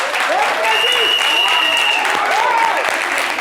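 A studio audience applauds a mother on a French midday show, dense steady clapping throughout, with a whistle-like tone and swooping voices heard over it.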